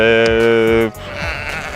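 A dark-headed sheep on a breeding farm bleats loudly and close for nearly a second, one long wavering cry, followed by quieter farmyard background.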